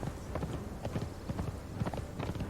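A horse's hooves clip-clop in the Conan Exiles video game, a steady, close rhythmic trot of overlapping hoofbeats with no talk.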